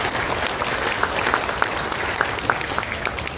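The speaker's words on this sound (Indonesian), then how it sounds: "tepuk tangan untuk kita" Crowd at an Indonesian gathering claps steadily, a thick continuous wash of applause with a few sharper claps standing out near the listener.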